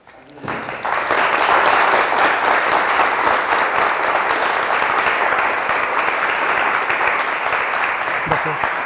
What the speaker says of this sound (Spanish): pues daremos un aplauso